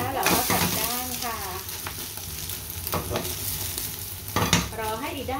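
Egg with dok khajon flowers fries in a pan and gets flipped, giving a constant close sizzle with a few louder scrapes and bumps; a woman's speech-like voice drifts faintly in the background.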